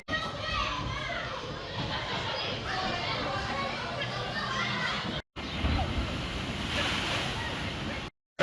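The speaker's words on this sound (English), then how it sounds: "Only got a little bit wet. A light" A theme park water ride at Chessington washes through water with a steady rushing splash and surf-like noise, children shouting and chattering excitedly over it, with a brief cut in the middle.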